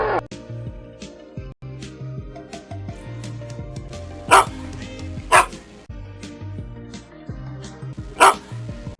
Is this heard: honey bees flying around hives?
no